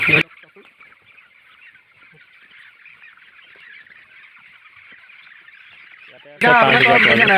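Dense chatter of many broiler chickens clucking at a distance in a poultry shed, continuous, before a loud burst of close voices at the end.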